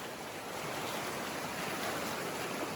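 Swift, rushing jungle river current in clear forest water, a steady broadband roar of flowing water close by, continuous and unbroken with no voices.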